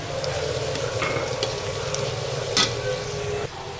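Broth poured into adobong sitaw frying in a pan, with steady sizzling and stirring throughout and a brief louder splash-like burst near the middle before the sizzle drops slightly.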